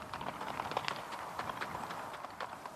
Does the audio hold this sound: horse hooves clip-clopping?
yes